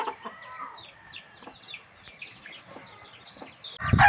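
Young chicks of a backyard flock give repeated high peeping calls in quick succession, close by, ending with a sudden louder thump.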